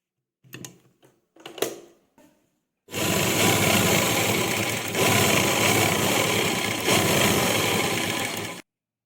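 After a few faint handling clicks, a sewing machine stitches piping onto a dupatta, running steadily and loudly for several seconds with slight surges before stopping abruptly.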